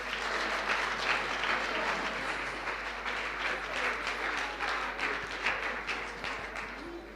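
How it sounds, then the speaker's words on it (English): Sustained applause from an audience at a business workshop, dense steady clapping that fills the room for several seconds without pause. "Let's give them a round of applause as well."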